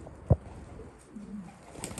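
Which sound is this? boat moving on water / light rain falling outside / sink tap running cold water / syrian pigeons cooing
syrian pigeons cooing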